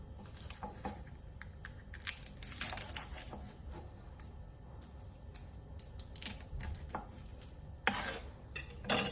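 Dried red chili peppers are sliced diagonally with a knife on a cutting board, giving a series of sharp, irregular crisp cuts and taps, close and fairly faint over a quiet kitchen background.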